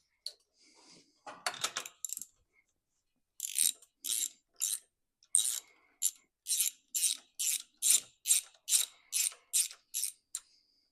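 A ratchet clicks in quick, even bursts while spark plugs come out of a Kohler Command V-twin engine on a Craftsman garden tractor, with a few short, irregular clicks first and then a long, steady run of close, crisp strokes.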